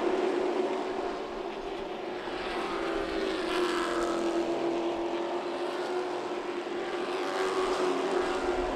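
Race cars at Myrtle Beach Speedway during an oval track race, a steady sustained engine drone from the pack holding at a fairly loud level throughout, with no clear speech.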